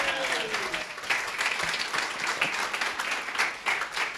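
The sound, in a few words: audience applause for keynote speakers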